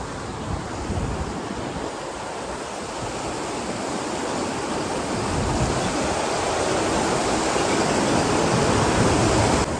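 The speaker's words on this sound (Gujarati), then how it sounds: "આનો ખાલી તમે અવાજ સાંભળો એકદમ વહેતું પાણી છે મિત્રો" Jamjir Waterfall in Gujarat, running low after little rain, gives a continuous broad rushing roar of flowing water, loud and close, growing slightly stronger over the seconds with some wind buffeting.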